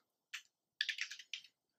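A computer keyboard is typed on in a few faint, short bursts of quick keystrokes separated by brief pauses, in a quiet room.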